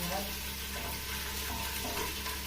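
Meat for an onion stew sizzles in a hot pan, a continuous frying hiss with faint scraping and clinks, fairly close and even in level.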